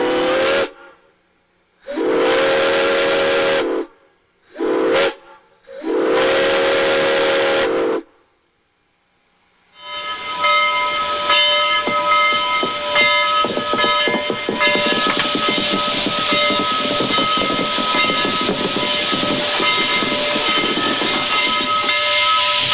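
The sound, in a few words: steam locomotive blowing off steam and whistling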